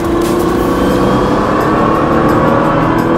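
A race car engine holds a steady, loud drone on a track, its pitch climbing gradually as the car accelerates harder, with no talk over it.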